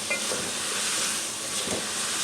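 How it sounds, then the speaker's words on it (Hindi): Ridge gourd (torai) frying in a pan, a loud, continuous close-up sizzle with a dense hiss and a few soft stirring movements beneath. "जब तोरियां भी डाल दी हैं, अब इनको फ्राई करूँगी।"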